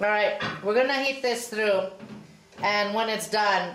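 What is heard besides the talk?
None of the usual background noises is heard.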